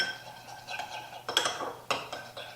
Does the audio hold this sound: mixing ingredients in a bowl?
yes